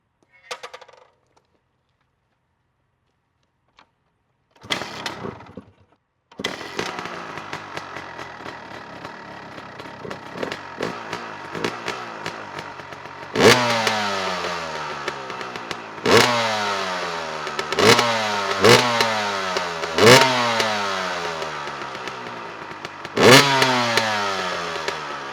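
A dirt bike fitted with an inexpensive aftermarket chain starts up and rides off, its engine snapping through a series of sharp revs that rise and fall repeatedly, close and loud after a brief quiet start.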